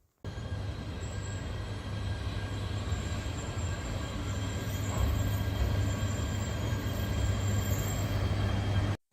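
A Tsubasa E3 series Yamagata Shinkansen train runs at the Yamagata platform, a loud continuous rumble of wheels and motors with faint high squealing, close by and steady for several seconds, with no voices.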